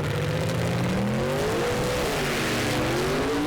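Gasser drag race cars launch off the line at a Shady Side event, engines roaring loud and close as the revs climb and shift, with a constant heavy blare of exhaust.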